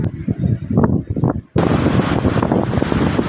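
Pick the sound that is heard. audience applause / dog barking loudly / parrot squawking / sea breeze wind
sea breeze wind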